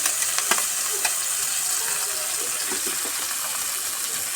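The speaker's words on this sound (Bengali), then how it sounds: "টমেটো কুচি একটু ভাজা ভাজা যেতে একটু কাঁচা লঙ্কা দিয়ে দিলাম।" Chopped tomato and green chili fry in a pan, giving a steady, bright crackling sizzle with a few sharp stirring clicks near the start.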